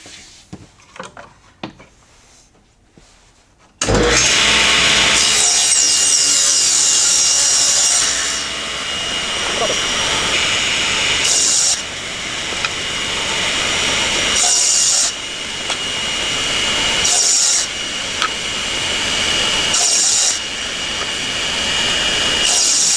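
A table saw rips a board guided along the rip fence: a loud, steady cutting whine runs alone for several seconds, then continues with repeated bursts as the blade pushes through the wood.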